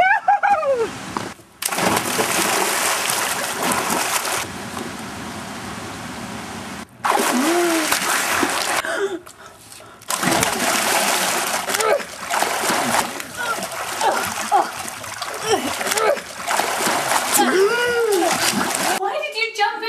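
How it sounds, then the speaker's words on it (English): Water splashes as someone jumps into a river, with loud broadband splashing bursts repeated across the stretch, broken by short gaps and mixed with voices talking. "Why did you jump into the river?"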